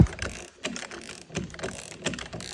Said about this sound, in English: let me just see how it starts to just pull the bush in